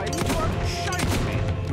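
Rapid gunfire in the video game Fable 2, a dense run of shots and booms filling the whole moment, loud and close, with a voice speaking briefly underneath.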